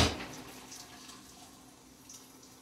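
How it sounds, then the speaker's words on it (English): Water pours and splashes loudly as cooked penne pasta is drained, then settles into a steady trickling and dripping as it drains away. "Try to drain it of the water as best as possible"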